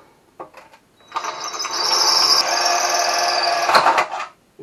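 A power drill bores out rusted screws on the exhaust of a 2006 Yamaha Grizzly 660 ATV: a few faint clicks, then a loud, steady high-pitched drill whine running about three seconds before stopping.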